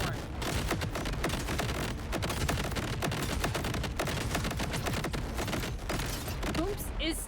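Continuous video game gunfire, dense rapid shots rattling almost without pause at steady loud volume, like a prolonged firefight.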